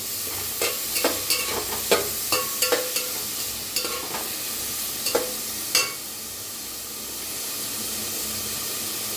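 Onion fries in a hot pan for chole bhature, a constant sizzling hiss broken by a run of sharp spatula scrapes and taps over the first six seconds before the stirring stops.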